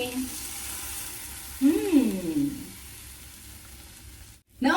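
Pasta with oregano, salt and red chilli flakes being stirred in a hot pan; a continuous soft sizzle with scraping stir sounds, a voice briefly cutting in partway through.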